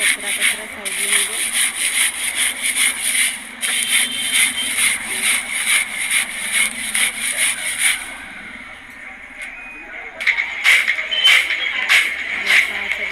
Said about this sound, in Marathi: एका कपड्यामध्ये ह्या उंब्या घेऊन या पद्धतीने घासायचं आहे